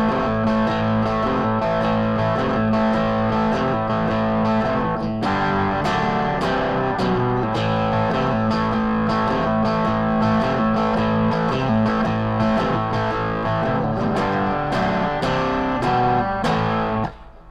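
Electric guitar with heavy distortion plays the main riff of a song, a loud, continuous run of chugging notes with sharp picked attacks and a brief walk-down before returning to the riff, with no talking.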